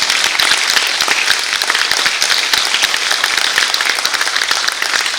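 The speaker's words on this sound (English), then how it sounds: "a huge round of applause for them" Steady, crowded applause from an audience honoring graduating students, many hands clapping evenly and continuously at close range with no voices on top.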